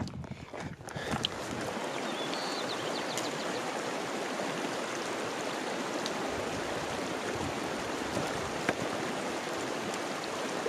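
A creek in the Grand Teton wilderness of Wyoming rushes steadily and close by, a dense continuous wash of flowing water with a few faint taps over it.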